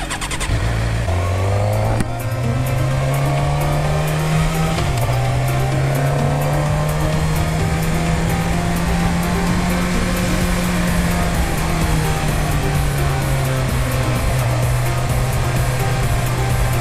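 Superbike engine circling laps on a go-kart track, a loud continuous drone that rises and falls in pitch through gear changes and corners, close and steady with no talk.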